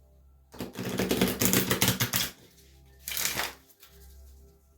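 Two bursts of stiff playing cards being riffle-shuffled, a long rapid flutter then a shorter one, crisp and close.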